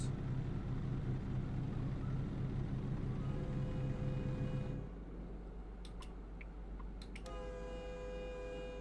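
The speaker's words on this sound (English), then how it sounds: "I think they turned down the train, or it doesn't seem as loud." Train in American Truck Simulator rumbling past with a sustained horn blast, followed by quieter ambient game sounds and a few faint clicks, no talk.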